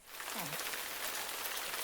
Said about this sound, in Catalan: heus aquí que es posa a ploure molt fort.